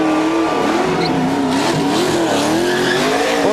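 A race car spins donuts on the pit straight at Watkins Glen after a NASCAR Busch Series race win, its engine roaring steadily with harmonic whine while the tires squeal loudly and continuously throughout.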